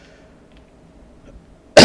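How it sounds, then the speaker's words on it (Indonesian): A single sudden, loud cough from a teacher during a math lesson bursts out at the very end after near silence. "Saya lanjutkan, maaf ya agak batuk."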